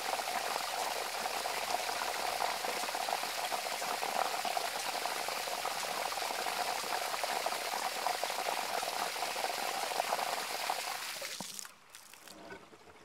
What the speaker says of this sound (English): I'm going to set it to backwash.